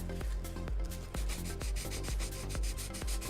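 Fine-grit sandpaper rubs back and forth over the heatsink of an ASRock RX 5700 graphics card, a close, steady rhythmic scraping with regular strokes.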